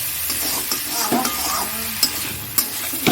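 Spice masala being stir-fried for an egg curry, with a spatula scraping and stirring through a steady close sizzle and a few sharp clinks against the pan.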